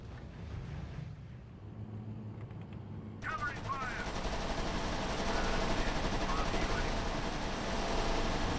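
Sustained covering gunfire and machine-gun fire in the WWII strategy game R.U.S.E., a steady rattling barrage that swells after a quiet start with a low engine hum beneath, moderately loud.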